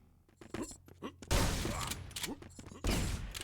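Super shotgun blasts in a fast arena shooter match, two loud booming shots with a mechanical reload clatter between, alongside other weapon noises and a commentator talking.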